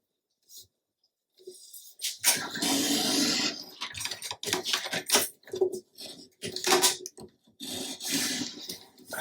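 A paper trimmer slices scrapbook paper, giving close rasping, scraping passes of the blade with clicks and rustles between them, with no talking.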